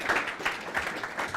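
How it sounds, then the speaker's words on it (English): Audience applause at a Droidcon Android Makers 2023 app clinic session, a soft, steady patter of hands with slight swells, heard at a moderate distance. "Round of applause for him."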